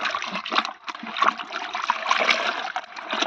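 Soluble fertilizer is stirred into water, giving a steady, close sloshing and trickling with small splashes that continue without pause.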